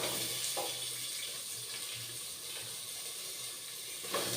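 Onions sizzling in hot ghee or oil in a pan with cloves while cooking a simple mutton biryani, a steady close hiss and crackle filling the whole stretch with no talk.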